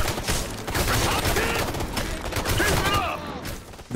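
Sustained enemy gunfire in the video game Ghost Recon: Future Soldier, a dense rattle of rapid shots and impacts that continues almost without a break, loud and close.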